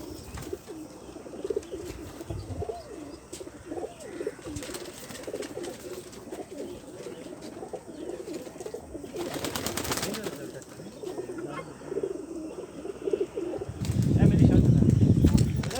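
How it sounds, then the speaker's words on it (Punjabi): Breeding pigeons kept on a rooftop coo softly and intermittently, with wing flaps and a loud burst of flapping near the end, over steady outdoor background noise. "ਇਹ ਵੱਡੇ ਕਬੂਤਰ ਨੇ ਜੀ, ਇਹ ਬਰੀਡ ਵਾਲੇ ਕਬੂਤਰ ਨੇ"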